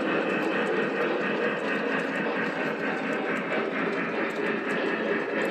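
A model cab-forward locomotive runs along a layout pulling a long train of fruit cars, giving a steady, dense rolling rumble with faint rhythmic clicking of wheels on track and no pauses.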